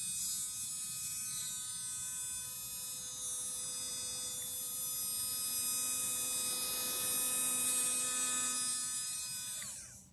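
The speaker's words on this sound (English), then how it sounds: "Motor's still running." Small electric motor powered through an earth ground connection, running with a steady buzzing hum rich in overtones for about ten seconds before cutting off abruptly at the end.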